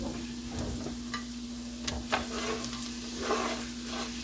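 Butter and a tablespoon of vegetable oil sizzle steadily in a pan during a lamb chop, rice pilaf and spinach cook, with a constant crackling fry and a few sharper spits and utensil clicks close by.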